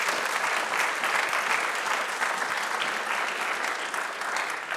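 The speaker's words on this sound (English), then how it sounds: "a big round of applause for this second panel that did great with the little time that they had" Audience at an EU health investment conference applauds a panel, a full, steady wash of clapping from many hands filling the room throughout.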